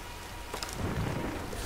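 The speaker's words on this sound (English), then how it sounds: "Nah, let's wait out the storm." In Tomb Raider (2013), a thunderstorm rolls in with steady heavy rain, and a crack of thunder breaks into a deep, rumbling roll that stays loud to the end.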